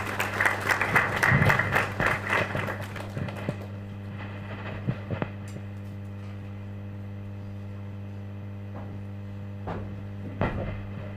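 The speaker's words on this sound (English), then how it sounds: "As he comes, we can give him a round of applause." Audience at an actuarial careers event clapping as a speaker walks onto the stage, a brief burst of applause that quickly dies away into room hum with a few scattered claps and knocks.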